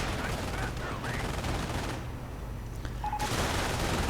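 Dense video game gunfire from a Panzer Grenadier assault in a 2v2 World War II strategy match, rapid machine-gun bursts and rattling shots at moderate volume, continuous throughout with a brief lull.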